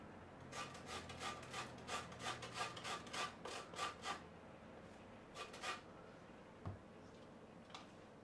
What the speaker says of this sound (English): you want about half of a lemon rind or zest